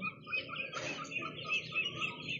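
Chickens cluck and chirp on a small farm in Bicol province in the Philippines, where ducks are also kept. The calls are faint and steady, overlapping continuously over a low outdoor background hum.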